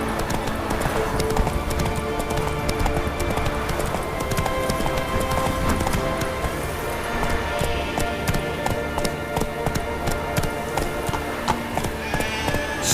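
Roach, a horse in a video game, gallops with steady rhythmic hoofbeats over a dense game soundtrack, with a brief whinny mixed in and no speech.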